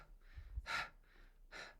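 A man imitates heavy breathing, alternating soft breathy inhales with sharper, louder gasping breaths in a rough rhythm, close and alone without words.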